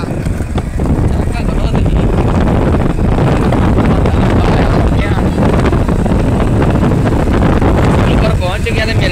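A motorcycle riding at speed, heavy wind buffeting the microphone in a constant loud roar, with a voice talking over it.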